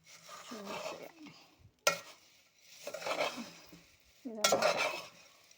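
Food stirred in a hot pan, three scraping, sizzling sweeps separated by brief pauses and sharp clinks of the utensil against the pan, close by, with no speech.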